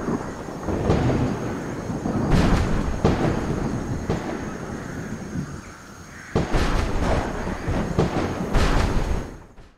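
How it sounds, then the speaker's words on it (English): Thunder sound effects from the Skyrim Thunder Sounds mod, a video game storm: loud, deep rolling rumbles with sharp cracking peaks, sustained throughout with two heavier surges, and no voices. "we have Thunder Sounds by WizKid that replaces the thunder sounds from Storm Lightning with the best sound effects from other weather mods"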